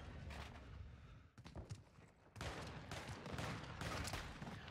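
Call of Duty MW2 gunfire rattles in several rapid bursts, loud and close, with brief gaps between volleys and no talking.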